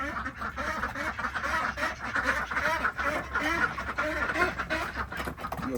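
A flock of ducks quacking continuously and close by, overlapping calls in a busy, chattering rhythm.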